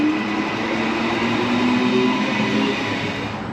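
Loud, steady rumble of a Brisbane passenger train in motion, heard from inside, with a faint whine rising briefly midway and no talking.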